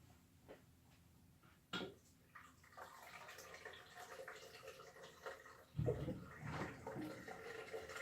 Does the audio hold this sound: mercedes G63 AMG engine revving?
no